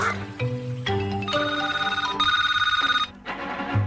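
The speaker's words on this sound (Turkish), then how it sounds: "Lütfen telefon aç" A telephone rings in a Turkish-dubbed Marsupilami cartoon, with a bright, warbling electronic ring tone repeating in bursts over music, and a brief pause before it resumes.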